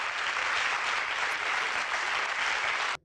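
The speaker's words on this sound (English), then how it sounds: "Give yourselves a round of applause." An audience applauds loudly and steadily, a dense wash of clapping that fills the whole stretch before cutting off abruptly at the end.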